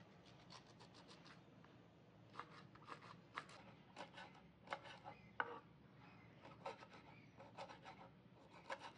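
Steady knife chopping of onions on a cutting board while seated on the floor at home, a run of quick close taps in bursts with short pauses, no talking.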